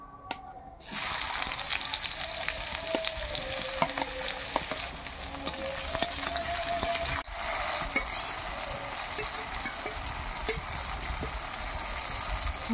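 Chopped onion dropped into hot oil in a pan for a taro stem fry bursts into a loud sizzle that holds steady, with stirring scrapes and clicks on top and a brief dip partway through.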